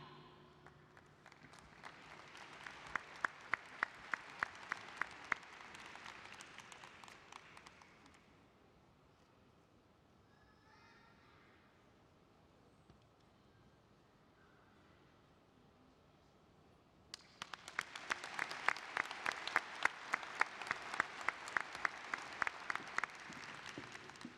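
Two bursts of applause from a university commencement audience honoring new Doctors of Education, the first lasting several seconds, then a quiet gap, then a second loud round of clapping.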